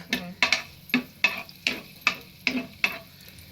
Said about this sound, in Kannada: ಫಸ್ಟೇ ಇವನ್ ಫ್ರೈ ಮಾಡ್ಕೊಂಬಿಡ ಇದ್ರೊಳಗೆ ಗೋಡಂಬಿ ದ್ರಾಕ್ಷಿ